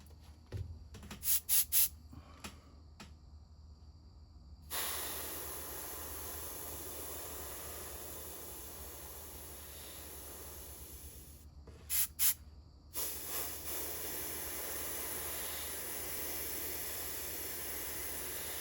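An airbrush sprays black paint onto a jerkbait fishing lure in short hissing bursts at first, then longer steady sprays, with brief pauses and a few quick puffs between passes.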